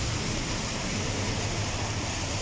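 Heavy rainwater floods a road in Saudi Arabia, heard as a steady, dense rushing hiss of water with no voices.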